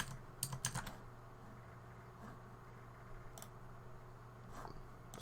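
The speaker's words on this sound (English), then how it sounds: "You can listen to my keyboard because it sounds so good." Fast bursts of clicky keystrokes on a computer keyboard during an online game match, close and fairly quiet, coming in short clusters with gaps over a faint steady hum.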